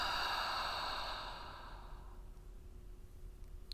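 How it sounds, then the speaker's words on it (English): One slow, breathy exhale during a guided breathing exercise, strong at first and trailing off over about two seconds into quiet room tone, heard up close. "and exhale"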